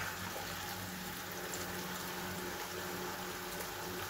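Water pours steadily and continuously at close range, a broad unbroken rush that holds even loudness throughout with no voices over it.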